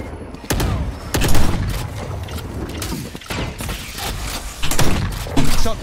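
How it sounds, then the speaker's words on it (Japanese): Rapid gunfire bursts and clattering weapon sounds from the video game VALORANT, dense and close, with repeated sharp shots over a busy game soundscape. "ミト銃声"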